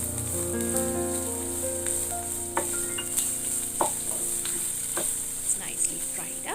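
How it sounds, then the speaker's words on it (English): Capsicum fries in a pan with a steady bright sizzle, while a utensil stirs it with occasional scraping taps and clinks throughout. "Stir it up. Let it fry."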